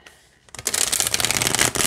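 Tarot deck being shuffled by hand, a quick quiet riffle at first, then a dense, steady run of crisp card flutter and slapping close up, with no talk.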